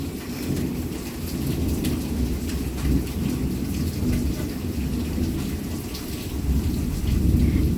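Steady heavy rain falls onto surfaces while deep thunder rumbles low and continuously through the storm, swelling louder near the end.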